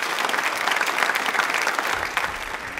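An audience at a quiz event claps loudly and steadily, a dense continuous burst of applause filling the room throughout, with no talk over it.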